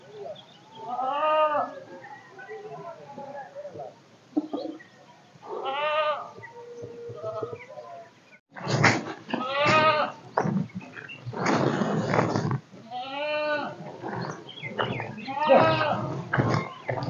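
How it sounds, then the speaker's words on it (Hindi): Goats bleating in a cold village morning, several calls repeating over about seventeen seconds with louder, busier bleats in the second half, fairly close. "अभी हम जा रहे हैं अपने बकरी खोलने।"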